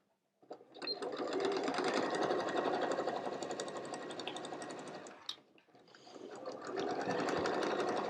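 A sewing machine stitches the seams of a fabric pouch in a fast, steady whirring rattle. It runs, pauses briefly for a backstitch, then starts again, close and clear with no talking.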